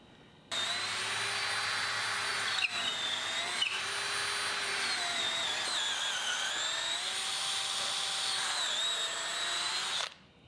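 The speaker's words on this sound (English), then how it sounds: "Then I used a long 1/4 inch drill bit to get through the 8 inches of beam." A drill with a long 1/4 inch bit bores through an 8-inch wooden beam, a loud, steady high whine that starts abruptly, wavers in pitch as the bit bites, and cuts off after about ten seconds.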